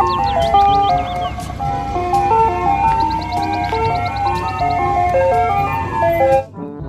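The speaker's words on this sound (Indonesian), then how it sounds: "Di sini ada mobil es krim." A toy ice cream truck plays its bright, tinkling electronic jingle, a looping melody of clear notes heard up close and loud before cutting off abruptly at the end.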